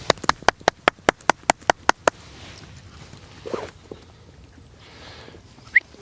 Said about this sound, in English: All I'm going to do is clap again.